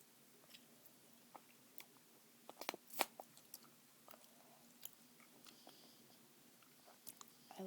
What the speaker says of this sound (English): I dominantly chew on this side